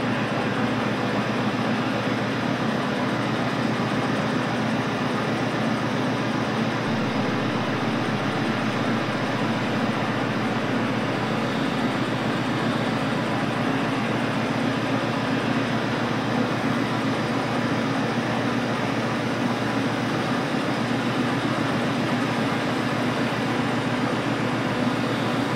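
A locomotive runs steadily in the Derail Valley train simulator, a continuous broadband rumble and hum of engine and rolling stock that holds unchanged throughout at moderate loudness, with no talk.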